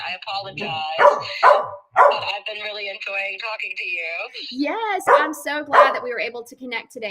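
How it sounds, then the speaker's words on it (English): A pet dog barks and yips repeatedly in a home during a phone conversation, the sharp bursts mixing with ongoing talk from a woman. "my dog is crazy."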